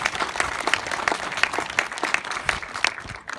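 At a dedication ceremony, an audience gives a round of applause: many hands clapping in a moderately distant, steady burst with sharper individual claps standing out, no speech on top.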